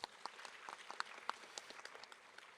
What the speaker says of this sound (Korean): 다시 한 번 더 이나래 박사님 발표에 큰 박수 한번 보내주셨으면 감사하겠습니다